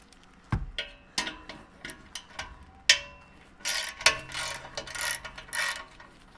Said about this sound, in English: Loosen this 13mm bolt